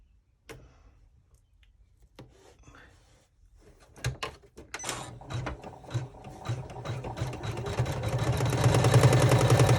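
An embroidery sewing machine sews a top stitch on a chevron braid clutch: a few handling clicks and rattles, then the machine starts and builds into a loud, steady, rapid mechanical whir toward the end.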